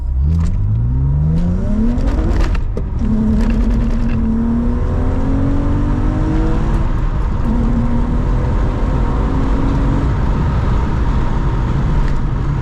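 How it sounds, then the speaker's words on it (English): A six-speed car pulls away hard at full throttle without a clutch dump, engine note climbing steadily through rising revs, then shifting and pulling again, loud and close with road and wind roar throughout. "First pull. This is not dump clutch, I'm just gonna hit the gas right now."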